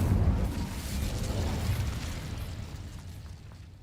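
The Incendio fire spell goes off in Hogwarts Legacy with a loud, booming fiery burst that rumbles and then slowly fades away over a few seconds.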